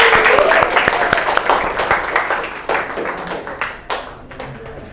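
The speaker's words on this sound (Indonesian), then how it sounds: "Oke, tepuk tangan untuk pembelajaran hari ini." University class applauding at the end of a lecture, a dense burst of close clapping that thins and fades into scattered claps, with voices talking in the room.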